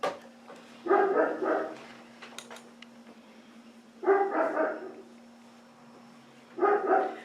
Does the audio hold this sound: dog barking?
yes